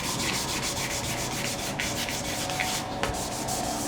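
A guitar neck being sanded flat between layers of French polish: a steady, close rasping rub that keeps going for the whole stretch with only slight pulses of stroke rhythm.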